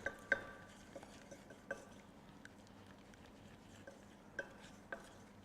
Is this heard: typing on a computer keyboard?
no